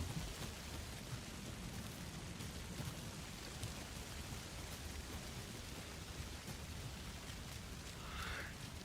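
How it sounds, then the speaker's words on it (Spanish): Steady rainfall in the video game Alan Wake 2, a dense continuous hiss of rain with soft thunder-like rumble underneath, constant and enveloping. "Uf, empezó a llover."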